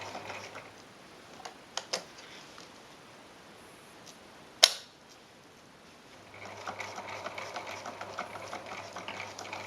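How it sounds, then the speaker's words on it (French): A domestic sewing machine pushes through thick layers of a Bumgenius 3.0 cloth diaper while elastic is stitched. A few faint ticks come first, then a steady, quiet whirr of the motor runs through the last few seconds. "c'est un peu dur de coudre dans toutes ces épaisseurs"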